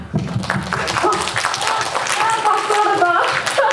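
A cinema audience claps after a film screening and guest talk, with steady applause running throughout while voices murmur underneath.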